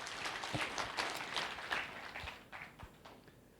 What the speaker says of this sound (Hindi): चलो तो उसके लिए एक बार तालियां बजा दो